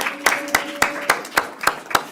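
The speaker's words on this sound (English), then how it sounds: "Thank you for the round of applause for them." Sparse audience applause at a school board meeting, a handful of distinct claps at a steady, slightly uneven rhythm in a large room, fading out quickly.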